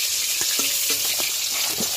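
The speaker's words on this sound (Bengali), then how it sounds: "আগে মাথাগুলো ভেজে নিলাম।" Bata fish heads fry in hot oil for a village-style mustard fish dish, giving a loud, continuous close-up sizzle with scattered crackles and pops.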